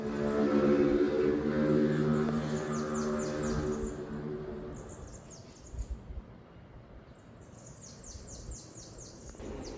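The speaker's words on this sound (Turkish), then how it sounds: "Ama kuş sesleri mükemmel sabah sabah." Birds sing in the morning in Brazil, chirping in quick, repeated high trills, fairly distant, over a low hum that fades out partway through; no one speaks.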